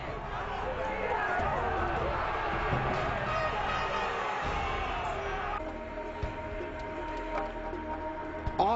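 A large crowd at the Palio horse-race draw in Siena gives off a sustained roar of cheering that fades partway through, with a voice talking over it.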